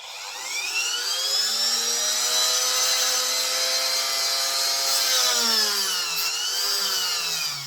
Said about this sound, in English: So I'll have to grind it all away